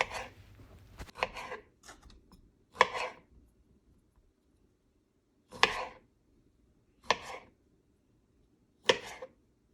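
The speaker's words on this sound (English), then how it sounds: "Cut the cherry tomatoes in half, like this." A knife slicing cherry tomatoes in half on a cutting board for an avocado salad, a string of crisp, close chops spaced a second or two apart with quiet gaps between, no talking.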